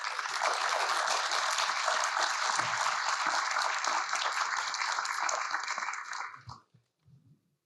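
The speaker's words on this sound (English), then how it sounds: "I just want everyone to please have a round of applause for our wonderful panel" An audience at a National Sorry Day policy forum applauds a panel with sustained, dense clapping at steady strength for about six seconds. It then stops abruptly, leaving a few faint scattered sounds.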